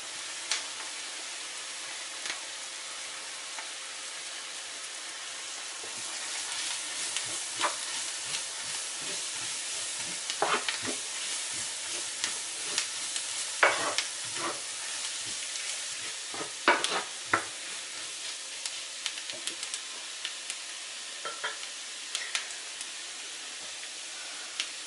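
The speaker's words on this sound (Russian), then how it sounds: "В обжаренный лук отправляю морковь." Carrot joins onions already frying in a pan, setting off a continuous hissing sizzle that grows busier partway through, dotted with small pops and crackles and the odd clink of stirring.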